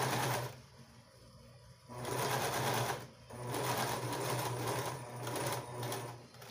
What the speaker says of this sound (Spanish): y lo voy a costurar a 1 centímetro.